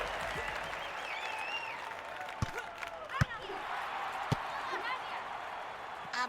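Crowd applause after a beach volleyball point in a London 2012 video game: steady broad clapping with a few scattered thuds over several seconds.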